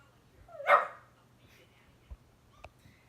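A single sharp dog bark up close, followed by a couple of faint yips or thumps in otherwise quiet surroundings.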